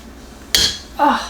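A container of homemade elderberry syrup is closed up, giving two sharp clinking knocks of lid against the container, about half a second apart, close and fairly loud.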